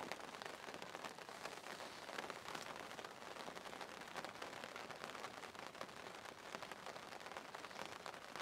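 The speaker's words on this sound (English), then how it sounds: "in shitty weather, it's raining" Rain falls steadily at a fishing lake, a soft, even patter and hiss with no breaks, fairly quiet and heard alone.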